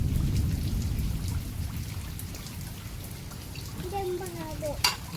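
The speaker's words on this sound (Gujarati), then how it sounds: "હજી પણ ઝરમર વરસાદ ચાલુ છે" Drizzle falling outside in a village, a soft continuous patter and hiss at low level, with faint background noises and a brief clatter near the end.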